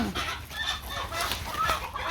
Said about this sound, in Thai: เสียงไก่ขากัน